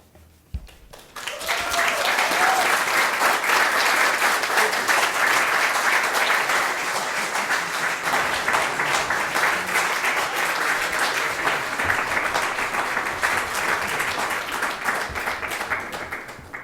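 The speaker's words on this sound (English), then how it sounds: "So I'm going to pretend we didn't just hear applause" Sustained applause breaks out at a city council workshop after a presentation, a dense, even wash of clapping starting abruptly and continuing steadily for many seconds.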